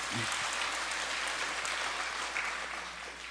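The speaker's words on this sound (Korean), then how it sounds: "하나님께 영광의 박수를 올려드립니다." A congregation at a Korean church Sunday service claps steadily throughout, dense and sustained, with a faint voice briefly at the start.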